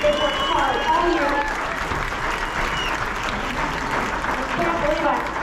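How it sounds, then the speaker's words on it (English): Audience applause fills a high school symphonic spring concert hall, a dense, steady clapping from the crowd that carries on throughout without letting up. "Please give them one more round of applause."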